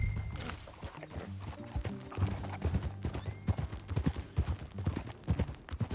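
Steady clip-clop of horse hooves at a walking pace over a low rumbling music bed, with a faint voice briefly underneath.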